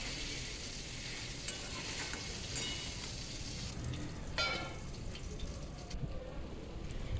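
Spices for ol dalna, a vegetarian elephant-foot yam curry, sizzle and fry with a little water in a covered pan, a soft continuous crackling hiss with faint stirring scrapes, no talking.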